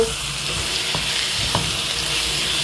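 Chicken curry seasoned with salt and turmeric fries in hot oil with a close, steady sizzle, while a spoon stirs through it with a few distinct scraping knocks.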